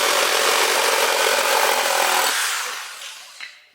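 A Metabo HPT 36V MultiVolt cordless reciprocating saw rasps loudly through wood with a fast, rough buzzing stroke, then the cut finishes and the sound fades to near silence.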